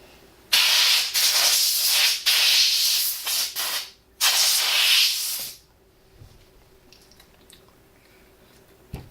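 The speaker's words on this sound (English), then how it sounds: "we'll blow our fan with compressed air" Compressed air blasting into a laptop cooling fan in several loud hissing bursts with short breaks, close up, then fading to quiet with faint clicks.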